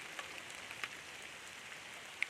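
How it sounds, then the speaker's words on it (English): Rain falls outdoors in rural Missouri as a faint, steady hiss, with a few distinct drops tapping on a nearby surface. "it's raining pretty good"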